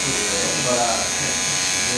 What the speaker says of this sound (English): when we come across it with the trimmer, you should see it sharper